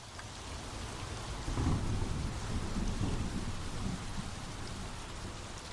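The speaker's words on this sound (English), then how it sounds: "Heavy rain." Heavy rain pours steadily in an anime storm scene, with low rolling thunder swelling in the middle and a dense hiss of rainfall throughout, no voices.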